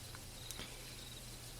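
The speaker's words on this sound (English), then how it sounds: "the song of the cicadas" Cicadas singing in a forest, a faint, steady high-pitched drone running through the whole stretch beneath a low hum, with one brief soft click partway through.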